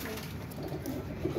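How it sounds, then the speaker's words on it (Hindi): A single heavy Pendu pigeon cooing softly at close range, low rolling coos in a short quiet burst. "ये पेंडू कबूतर है, ये भी पूरे भारों वाला कबूतर है"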